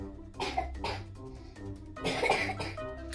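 Several harsh coughs in short bursts during a doctor's examination, close and fairly loud, with a pause between two clusters and no talking.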